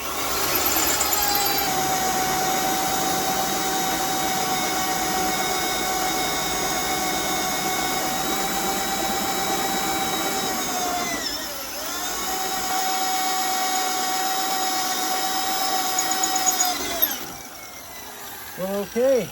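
A power drill fitted with a resharpened bit bores through metal in a workshop, giving a steady whining drone that dips briefly midway, resumes, then stops, followed by a few clunks.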